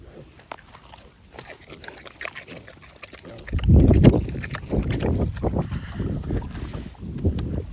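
Pigs chewing and crunching on lemons taken from a cleaned-out fridge, with goats nearby; quiet handling noise at first, then loud, close munching and snuffling that continues steadily to the end.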